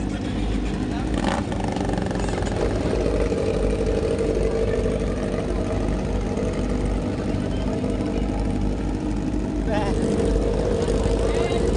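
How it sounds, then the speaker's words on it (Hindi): Loud, constant drone of many motorcycle engines running together at a riders' rally, with voices faintly mixed in the background. "इंजन स्टार्ट हो गए, तगड़ा साउंड आ रहा"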